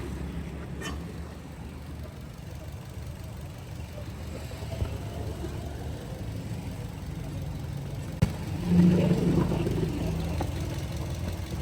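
A car engine idles at low volume during an inspection, a steady dull hum with a brief louder bump near the end and faint background noise.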